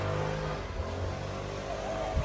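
A truck's engine runs and revs at a steady, close, fairly loud level, with low rumbling harmonics throughout and a brief swell near the end, with no talking over it.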